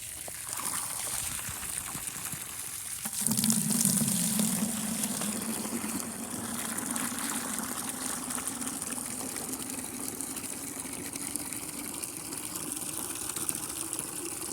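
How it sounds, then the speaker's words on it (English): Water pumped into a bucket during a flow test runs as a steady, continuous rushing gush that swells slightly after a few seconds and then holds at an even level. "the last test is the bucket test to see if the water flow"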